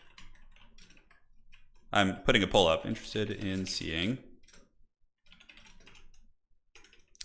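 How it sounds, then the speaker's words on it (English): Typing on a computer keyboard during a live game stream, soft rapid key clicks heard faintly before and after someone speaks over them in the middle. "I'm typing like a boomer here."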